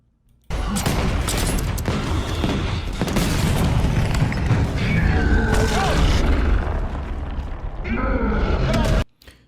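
Call of Duty video game combat: dense, continuous gunfire and heavy booming explosions roar for about nine seconds, with chattering bursts layered over a rumbling low end, then cut off abruptly, while voices talk underneath.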